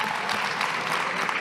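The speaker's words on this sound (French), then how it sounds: "Il y avait même des insoumis pour applaudir Clémentine Autain." Applause in the French National Assembly, a dense steady burst of clapping from many hands in the chamber that cuts off abruptly after about a second and a half.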